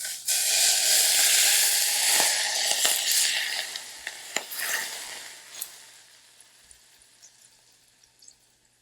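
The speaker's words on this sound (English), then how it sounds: "and you're going to hear it sizzle." Hot oil poured over green onion and ginger sets off a loud, close, bright sizzle that crackles with small pops, then gradually fades over several seconds into scattered faint spatters.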